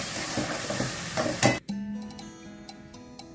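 Spice paste with yogurt sautés in a pan: loud sizzling and stirring for the first part, then a sudden drop to a quiet hiss with light ticking clicks, no talk.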